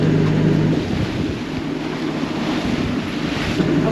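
Strong 31-knot headwind at sea off the Rock of Gibraltar, a loud continuous roar of wind buffeting the microphone over low rumbling water, steady for the whole stretch with no voices.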